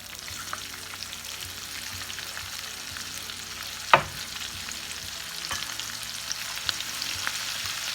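Onions frying with bacon in a pan for polk sallet, giving a steady close sizzle throughout, with a single sharp clatter partway through.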